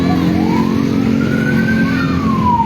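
A fire engine siren wails loud and near as the truck arrives at a hospital fire, its tone rising and falling over a heavy engine rumble and the general noise of the scene.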